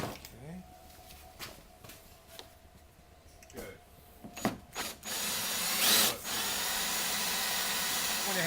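A power driver sends screws into the window frame of a Sprinter van, with scattered clicks and short bursts of tool noise, ending in a louder continuous whir with broadband hiss.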